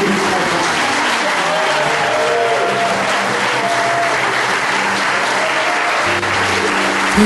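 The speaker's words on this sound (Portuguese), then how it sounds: "Aplaudir o Senhor pelo sacrifício na cruz." Loud, sustained applause from a church congregation praising the Lord, dense steady clapping filling the whole stretch with a faint murmur of voices beneath.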